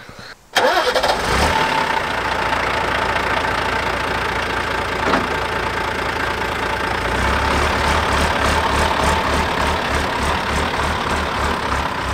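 An expedition motorhome engine cranks and catches, then runs at a steady idle and rumbles on as it pulls away, loud and close throughout.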